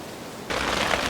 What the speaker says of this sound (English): we have now currently got a very cheeky shower coming in on the hide